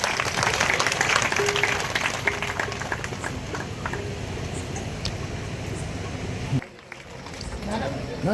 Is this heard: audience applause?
yes